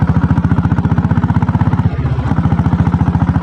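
A 7.5 HP diesel Royal Enfield Bullet engine accelerates in second gear, thumping in a steady, fast putter, holding close and loud with a brief dip midway before resuming its even beat.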